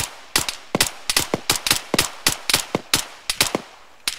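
Rapid, sharp rifle shots from the military shooter Arma 3, about a dozen crisp cracks in quick irregular succession, loud and close with quiet gaps between.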